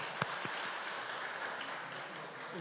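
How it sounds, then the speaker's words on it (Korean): Church congregation applauding indoors during a Sunday afternoon anniversary lecture, a steady, moderate wash of many hands clapping at a distance, with a few sharper taps near the start. "박수 한번 해주시죠"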